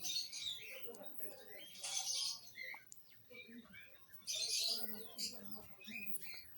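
Birds in an aviary at Chhatbir Zoo near Zirakpur, Chandigarh, including cockatiels and zebra finches, chirp and tweet in faint, scattered bursts, with people talking throughout.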